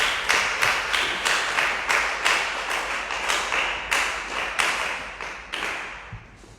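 Congregation clapping in welcome at a church service: a run of loud, sharp claps at an irregular, steady pace, echoing in the room and trailing off near the end.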